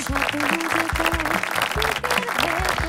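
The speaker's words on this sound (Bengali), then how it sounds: "সবাইকে জোর একটা তালি।" Sustained applause from a live audience greets the crowned champion at a talent-hunt grand finale, dense and continuous over music for the whole stretch, with no voices on top.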